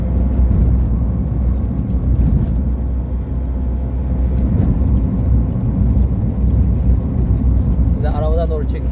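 Steady engine rumble and road noise fill the cabin of a car driving along a rural road near Boduklar, Karapınar, loud and continuous throughout, with a brief whistle-like sound near the end.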